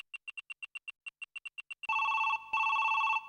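A telephone rings with rapid electronic trill bursts in a quick rhythm, followed by two longer sustained tones, loud and close with nothing else heard.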